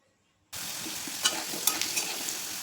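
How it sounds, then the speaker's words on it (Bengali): Potatoes fry lightly in oil with salt and turmeric. After a brief silence, a loud, even sizzle bursts in and holds steady, with a few crackling pops on top. "একই তেলে নুন হলুদ দিয়ে আলুগুলো হালকা ভেজে তুলে নেব।"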